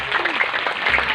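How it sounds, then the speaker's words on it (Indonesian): Audience applause for the head of a hadroh group at a sholawat gathering, a steady patter of many hands clapping throughout with speech mixed in. "Tepuk tangan dulu untuk Kang Haidar."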